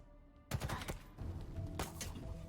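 Rapid bursts of battle rifle gunfire in a Halo-style shooter game, several sharp close shots firing in quick clusters with short gaps between them.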